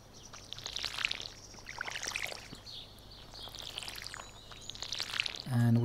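Watering crops with a watering can in the video game Stardew Valley: a soft pouring splash plays in two bursts over light chirping birdsong in a calm farm setting.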